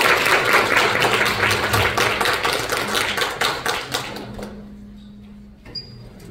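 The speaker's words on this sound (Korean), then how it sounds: "여러분 박수로 환영 부탁드립니다." An audience claps in welcome at a community care project briefing in a hotel in Jeju. Dense, loud applause fades out over a few seconds, leaving a few scattered claps.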